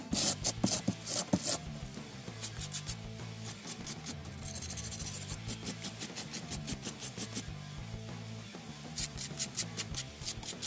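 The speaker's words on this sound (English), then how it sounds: "I then roughed up all the straight edges and smooth bits with this really stiff wire brush." A stiff wire brush scrubs the edges of a scratch-built Warhammer 40K Ork barricade model in rapid rhythmic bursts of close rasping strokes, steady throughout with brief pauses and no talk.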